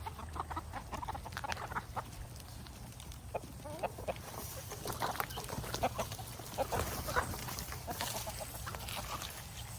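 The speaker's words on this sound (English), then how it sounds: "Just coming out to let these chooks out now." Backyard chickens clucking and chattering up close as they are let out of their coop in the morning, with a steady low hum underneath and no voices.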